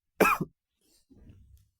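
A single sharp cough bursts out nearby, then a softer, rougher throat-clearing follows a moment later in an otherwise quiet room.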